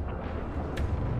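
A ship explodes in the space strategy game Homeworld 3, a low rumbling boom spread through a dense battle roar with a short bright burst near the middle, all continuous and fairly loud with no talking.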